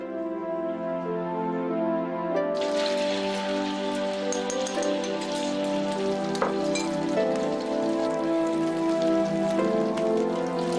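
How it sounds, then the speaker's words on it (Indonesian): Eggs fry in a pan with a dense, continuous crackling sizzle that starts abruptly and stays loud and close, with a tonal hum underneath. "Yasin gorengin dulu ya, Kak."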